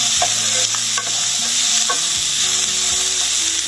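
Ridge gourd stir-fries in oil over a lowered flame, giving a steady, close sizzle with scattered clinks and scrapes of a spatula against the pan.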